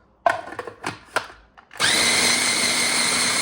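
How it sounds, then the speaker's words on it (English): A food processor whirs through cottage cheese and milk, starting abruptly after a few light clicks and knocks, then holding a loud, steady high-pitched motor drone close by. "You can use a blender, but I'm using a food processor."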